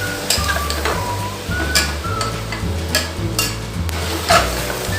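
Chopped tomato with spices fries in a pan for a potato and long-bean curry, a steady close sizzle with repeated scraping stirs from a spoon against the pan.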